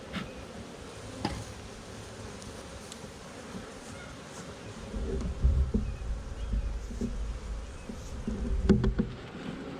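Bees buzz around backyard hives on a stand, a steady low drone that swells louder in the second half with a few close passes and faint knocks.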